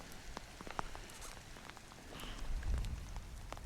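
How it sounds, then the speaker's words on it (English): Rain lashes down on Aberafan beach at Port Talbot in Wales: a steady, fairly soft patter of scattered drops fills the whole stretch, with a slightly heavier wash near the end and no voices. "it's now lashing down the rain."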